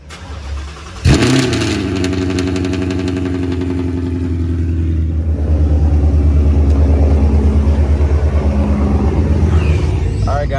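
Two vehicle engines cold start together after a brief quiet moment, catching with a loud crank and settling into a steady, throbbing idle that builds into rising revs, heard up close and loud.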